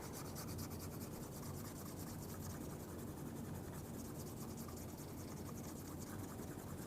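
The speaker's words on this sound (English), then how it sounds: "take our burnishing tool and we're just going to slick down that edge" A burnishing tool rubs quickly back and forth along a dampened leather edge, making a quiet, steady, rhythmic scratchy friction close by with no talk.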